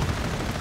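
Grenade blasts in a World War II tank battle video game, thrown at tanks: a short, loud, rumbling burst of explosion noise with heavy low end, continuous for under a second.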